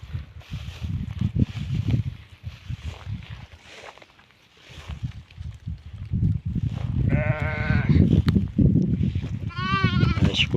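Flock of farm ewes and lambs offered for sale, bleating repeatedly, several distinct calls rising near the end over a steady low rumble and shuffling of the herd.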